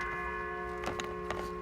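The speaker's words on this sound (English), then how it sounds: "I don't want to hear your bell no more" A church bell rings beside a church parking lot, with steady sustained tones and a couple of short metallic strikes near the middle and end.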